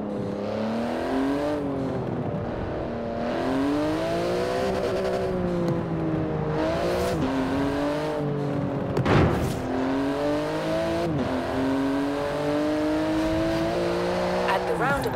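Porsche 911 GT2 RS, a widened, magnesium-wheeled supercar, driven through city traffic in Forza Horizon 4, its engine note steady and loud, rising and falling with revs and gear changes, with a short burst around the middle and a voice talking over it.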